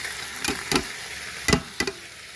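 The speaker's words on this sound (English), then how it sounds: "I'm going to stir and cook that sausage for 5 minutes until it is all brown." Sausage browning in an Instant Pot on sauté with onions, stirred with a wooden spoon: four short scraping, sizzling strokes in two pairs, close and fairly faint over a quiet background.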